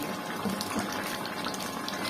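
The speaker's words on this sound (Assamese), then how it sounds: "পুৰা উতলি আছে" A fish and spinach curry boils in a partly covered pot, making a soft, continuous bubbling and watery churn that stays low and even throughout the short moment.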